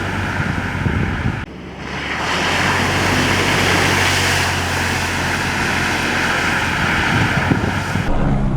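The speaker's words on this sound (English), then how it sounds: "Helicopters buzzing us." Helicopters fly low overhead along an overland route in Idaho, a loud, continuous roaring rush heavily mixed with wind buffeting the microphone, swelling and easing briefly without any talking.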